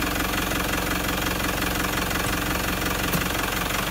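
A car engine runs steadily close by while the A750F automatic transmission is put through its gears during an oil change, a continuous loud rumble with a faint knocking pulse throughout.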